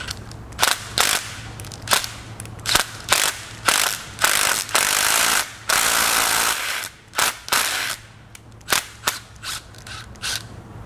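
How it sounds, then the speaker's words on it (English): Workshop effort to pull threaded parts out of a blown Mercedes M156 6.2L AMG V8 using a cam cap bolt and scrap hardware: sharp, repeated mechanical ratcheting and clacking bursts, close and loud, separated by short pauses. "I'm going to use a cam cap bolt and some junk I had laying around the shop to try to get these pulled out"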